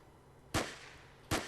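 Two sharp, loud pistol shots in the Onward VR shooter, spaced under a second apart, each a crisp crack with a short decaying tail over quiet background.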